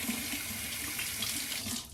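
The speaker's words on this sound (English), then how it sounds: "Now I'm going to rinse off with cold water" Cold tap water running steadily into a bathroom sink for rinsing after a shave, a continuous close splashing hiss that thins out at the very end.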